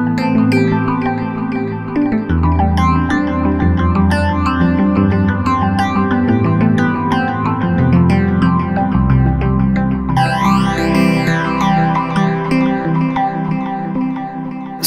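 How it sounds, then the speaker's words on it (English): A Roland System 8 synthesizer playing a patch on its native engine: a loud, rich, echoing sequence of shifting bass notes and bright arpeggiated tones, with a sweeping effect midway through, heard alone. "the System 8's own native engine does some really cool sounds like this one"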